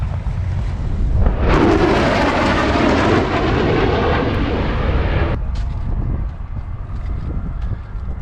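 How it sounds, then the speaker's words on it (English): A McDonnell Douglas F/A-18 Super Hornet jet comes in to land at the 2024 Stuart Air Show, a loud broadband roar that swells and holds for several seconds before dropping off to a fainter rumble, with wind buffeting the microphone. "FA-18 Super Hornet coming in for landing, which will probably close out the Stewart Air Show for 2024."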